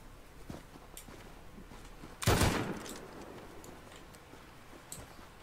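Distant gunfire in the survival game Rust: faint scattered ticks and pops, then one loud burst of shots that rings out and fades, followed by more sparse far-off cracks.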